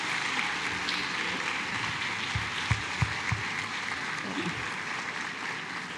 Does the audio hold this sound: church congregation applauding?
yes